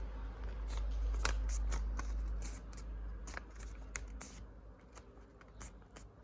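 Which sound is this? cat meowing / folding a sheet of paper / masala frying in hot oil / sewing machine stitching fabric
folding a sheet of paper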